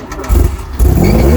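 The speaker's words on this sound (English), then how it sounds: "Starter motor works alright." A DeLorean's starter motor cranks briefly and the engine catches, firing into a loud, close rumble that settles into a rough idle, heard in a car park.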